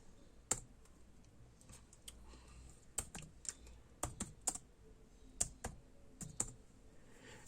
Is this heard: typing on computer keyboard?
yes